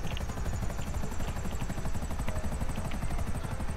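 A helicopter in Grand Theft Auto 5 drones steadily with rapid rotor chop throughout, loud and continuous with no pauses.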